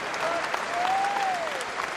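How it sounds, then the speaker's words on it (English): Steady, dense applause from a large crowd at a UFC welterweight title fight in London, filling the arena evenly throughout with a faint whistle gliding above it. "Getting a round of applause"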